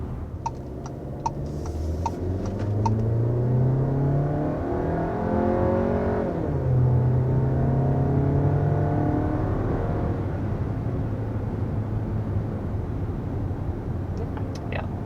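Cabin interior of a moving 2022 Volkswagen Tiguan with steady road rumble and engine hum, a few soft thumps and rattles as tires roll over potholes.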